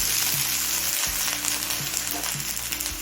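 Eggplant and broad beans fry in hot oil, giving a steady close sizzle and crackle with a faint low rumble throughout and no voices.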